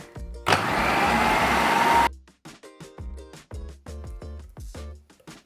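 A kitchen blender pureeing fruit, including passion fruit, for fruit rollups; a loud, steady whirring roar lasts about a second and a half, then cuts off abruptly, leaving quieter, scattered clinks and small sounds.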